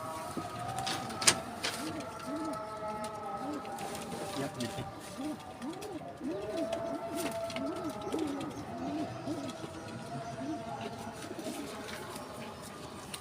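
Shami pigeons coo in repeated soft, rolling calls close by, a steady rhythmic series with a faint clatter and background murmur.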